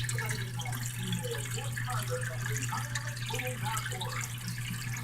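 Water runs steadily through a homemade blue bowl gold concentrator, a continuous close rushing flow with a low steady hum beneath it and no pauses.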